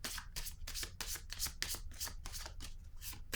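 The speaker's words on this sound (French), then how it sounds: "Je vais déposer une carte sur l'harmonie" Tarot cards are handled and laid down on a table in a rapid series of close, crisp papery riffs and slaps, repeating in quick bursts without any voice.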